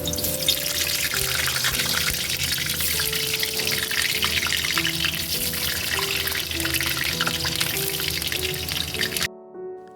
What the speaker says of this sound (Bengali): তারপর আমরা আলুগুলো এক এক করে ভেজে নিচ্ছি।